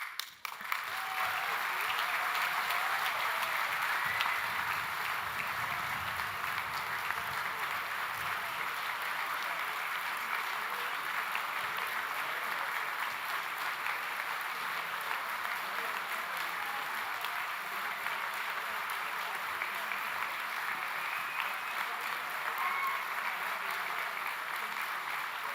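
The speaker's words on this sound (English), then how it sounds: "That's a great round of applause" Audience applause at a university graduation ceremony, a long steady round of clapping from a large hall crowd, sustained and even for the whole stretch with no talking over it.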